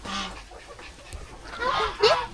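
Chickens cluck in a home coop, a few short, quiet calls, with a sharper burst near the end of the brief moment.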